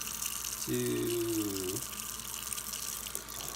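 A tap runs water into the measuring cup of a Dash Rapid Egg Cooker in a steady, moderately close rush with a brief gurgling fill, over faint background hiss; a voice briefly speaks.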